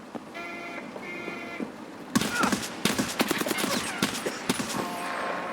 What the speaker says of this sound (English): I don't even know why I started shooting.